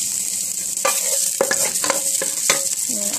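Shallots dropped into hot oil on medium-high heat, a bright steady sizzle with some stirring clatter, close and fairly loud, with no voice.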